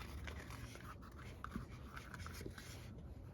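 A rubber inner tube is cut close up into one continuous ribbon, giving a faint, steady scratchy rasp of blade drawing through rubber with small irregular catches and no talking.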